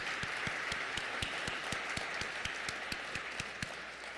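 An audience at a panel discussion applauds with a steady patter of many hands clapping in a large room, moderately distant and even, without speech.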